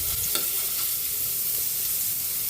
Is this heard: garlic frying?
yes